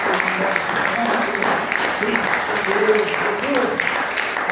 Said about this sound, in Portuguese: louvando a Deus com as palmas bem alegres para o Senhor Jesus